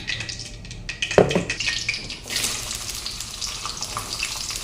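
Onions go into a hot frying pan with a sudden close clatter and thump, followed by a rising, steady sizzle that carries on without talk.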